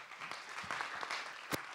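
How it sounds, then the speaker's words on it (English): An audience at an evening talks event in Bangkok gives a faint round of applause, a soft, distant patter of clapping under a quiet hall. "A round of applause for her, please."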